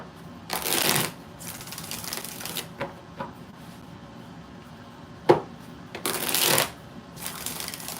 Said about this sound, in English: All right, 2 more shuffles.